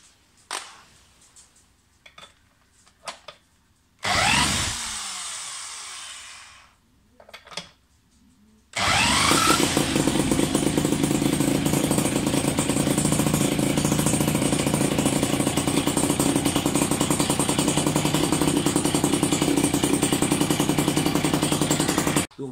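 A tuned Polini engine starts with a short burst, then sputters, and finally settles into a loud, continuous run in a garage. It holds a sustained buzzing drone for the final dozen or so seconds.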